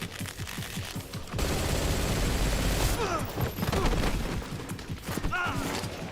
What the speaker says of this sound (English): they updated the gunshot sounds for that weapon